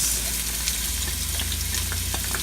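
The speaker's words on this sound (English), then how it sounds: "When you hear just a little bit the oil, sizzling" Onion, carrots, garlic and celery sizzle steadily in hot oil in a pan for a beef stew, a dense, even crackle with small pops throughout and no talking.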